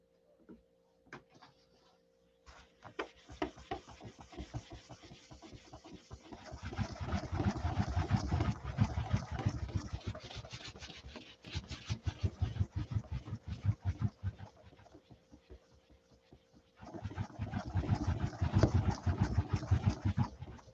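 A nitrocellulose lacquer paint finish is rubbed by hand in rapid rhythmic strokes, with busy scratchy bursts broken by short pauses and growing louder and softer across the stretch.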